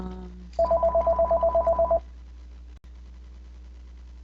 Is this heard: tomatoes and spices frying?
no